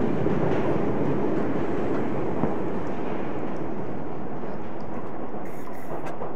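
A train in the video game A Memoir Blue rolls past with a loud, continuous rumbling roar and a faint rhythmic clatter, and no voices are heard.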